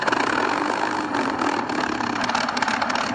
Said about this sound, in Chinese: 有一个启动的声音。